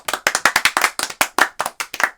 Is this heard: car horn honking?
no